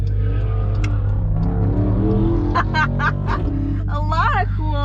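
The 6.4-liter 392 V8 of a 2021 Dodge Durango SRT Hellcat rumbles deep and steady throughout, swelling slightly at times, under people talking and laughing inside the vehicle.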